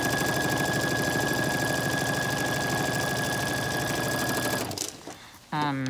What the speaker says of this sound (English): And just stitch all along the line for 1/4 of an inch.